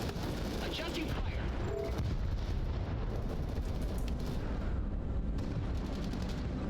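Heavy artillery fire booms steadily in the video game Crossfire Legion, a dense, continuous barrage of low explosive rumbles and blasts with a voice talking over the battle.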